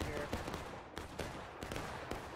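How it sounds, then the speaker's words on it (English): Cannon fire at a Civil War reenactment: a few sharp, booming blasts cut through a constant rumble of gunfire and crowd noise, fairly loud and close. "call that cannon right there shooting up and over us"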